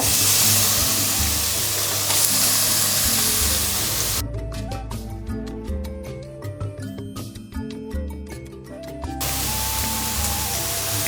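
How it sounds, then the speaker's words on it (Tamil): Grated carrot frying in ghee in a pan for carrot halwa, a steady loud sizzle that dips and crackles unevenly for a few seconds before settling back into a continuous hiss. "இந்த நெய்லேயேங்க இந்த கேரட்டை, துருவின கேரட்டை அப்படியே போடுவோங்க."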